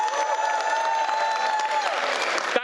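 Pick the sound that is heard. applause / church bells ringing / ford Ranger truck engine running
applause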